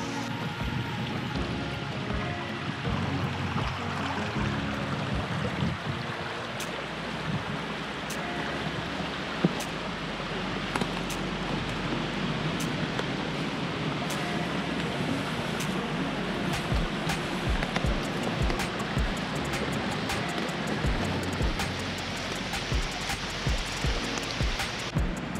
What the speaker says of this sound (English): The creek down here is about as full as I've seen it.